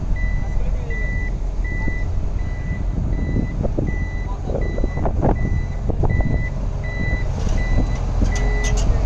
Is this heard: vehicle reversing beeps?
yes